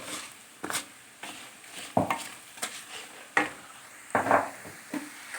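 Meat frying in a pot for Hungarian pörkölt with a steady sizzle, broken by repeated loud scrapes and clunks of a utensil stirring, close up.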